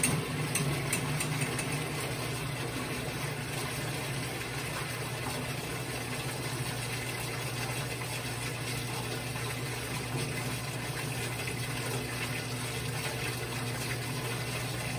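Water steadily drains from a jet impact test apparatus with a cup vane, a constant trickling wash over a low pump-like hum, close and even throughout with no talk.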